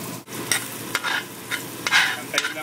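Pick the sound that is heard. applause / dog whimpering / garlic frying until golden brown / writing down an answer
garlic frying until golden brown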